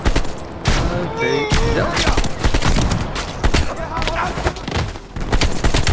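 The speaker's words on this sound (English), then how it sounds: "Oh, we got a lot of gunfire here" Heavy, rapid gunfire from Call of Duty: Black Ops Cold War on PS5, dense overlapping shots and bursts close and loud throughout, with a player briefly speaking over it.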